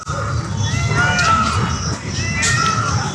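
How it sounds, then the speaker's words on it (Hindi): Wailing peacock calls ring out at a moderate distance over steady outdoor background noise in Deer Park, Hauz Khas, Delhi, with a sharper cry near the end. "और मोर की आवाज़ आ रही है, सुनो।"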